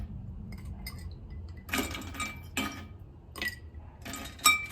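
Ice cubes clink against a cocktail glass as a drink with orange and Angostura bitters is made, several bright separate clinks and rattles in short bursts, close and fairly loud over a quiet background.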